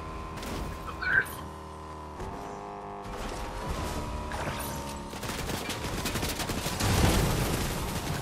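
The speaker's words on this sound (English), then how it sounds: "And they're shooting from the island. Oh no, they're shooting straight ahead." Distant enemy gunfire in an online shooter match, scattered shots and bursts sitting low under game music and ambient noise, with players talking over it.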